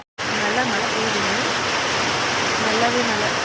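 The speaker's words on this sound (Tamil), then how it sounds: "நல்லா மழை பெய்யுதுங்க." Heavy rain pours down steadily in Kodaikanal, a dense, loud, unbroken hiss that starts abruptly and stays even throughout, with a faint voice murmuring underneath.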